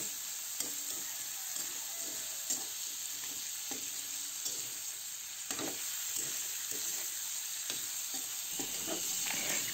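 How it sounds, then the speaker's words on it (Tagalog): Sautéed onion and garlic are stirred into meat in a frying pan, with irregular spoon scrapes and clinks over a continuous soft sizzle, close and fairly quiet, with no voices. "kapag namoy na ang bango ng sibuyas at bawang, ihalo na natin ito sa karne"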